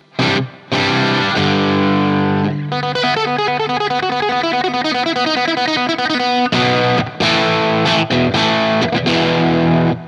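An electric guitar plays through a fully driven Marshall JTM45-style tone on a ToneX pedal, with crunchy chords and riffs, loud and close, with brief gaps between phrases and no talking.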